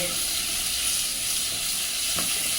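Onions and garlic sauté in a pan for a beetroot curry, giving a steady, broad sizzling hiss that runs unbroken throughout, close and fairly loud, with a brief clatter near the end and no talking.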